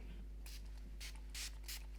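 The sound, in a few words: spray bottle spraying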